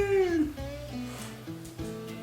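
A cat meows at close range in one clear, falling cry, followed by a few softer, lower calls.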